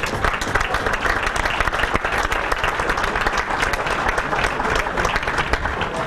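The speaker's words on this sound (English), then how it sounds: "a big round of applause for Mike Teddy" Banquet audience at a sports hall of fame induction giving sustained, dense applause for an inductee, loud and even throughout with a few murmurs in the crowd.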